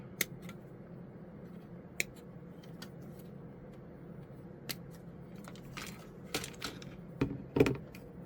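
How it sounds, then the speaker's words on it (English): Warhammer Age of Sigmar plastic model parts being cut off the sprue with sharp, scattered snips and clicks. They are close and quiet over a soft background hum. "Let's make sure I cut the right parts off, eh?"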